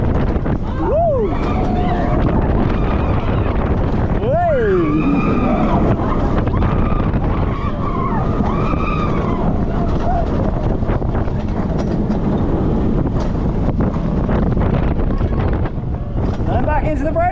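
Launched roller coaster with a rattle, heard from onboard as a loud, continuous roar of wind and track noise with rising whooshes, while riders are heard shouting throughout.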